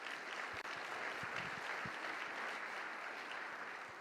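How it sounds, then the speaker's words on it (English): Dense, sustained applause from a sizable summit panel audience, steady and even throughout with no voices standing out. "So please, round of applause for Mr. Reed."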